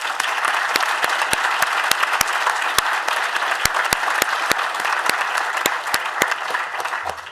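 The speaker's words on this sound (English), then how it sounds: "A round of applause for my team, please." A conference crowd applauds its organizing team at a leadership roundtable, sustained and fairly loud, a dense spread of clapping with sharp individual claps popping out irregularly and no speech.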